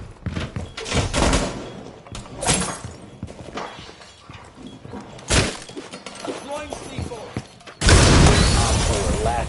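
In Rainbow Six, a detonating charge sets off a series of sharp cracks and shattering bursts amid gunfire, ending in a loud sustained blast, with voices in the mix.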